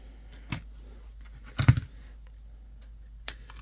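Snips of wire cutters trimming jewelry wire for a ribbon channel setting, three sharp clicks close by, the loudest in the middle, with quiet pauses between.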